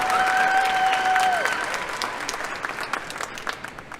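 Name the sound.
audience applauding at a graduation ceremony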